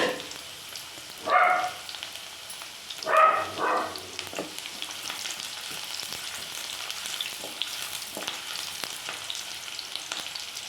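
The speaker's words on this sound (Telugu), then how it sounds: "ఇప్పుడు ఆయిల్ వేడెక్కింది ఇందులో ఉల్లిపాయలు వేయాలి దోరగా వేసుకోవాలి" Onions frying in hot oil give off a soft, continuous sizzle. A couple of louder bursts of crackle come early on, then the sound settles into a quieter hiss. No one speaks.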